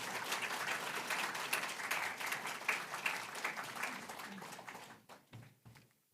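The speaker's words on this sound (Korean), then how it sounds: "한번 박수로 모시기 바랍니다" A church congregation at a Sunday service claps to welcome a guest pastor to the pulpit, a dense steady round of applause that thins out and fades over the last second or so.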